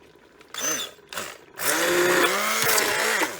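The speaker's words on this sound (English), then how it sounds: "I'm going to use my immersion blender and blend it all up" An immersion blender whirs through tomatoes and spices for marinara: two short bursts, then a longer sustained run with the motor pitch shifting as it works through the sauce, close and loud.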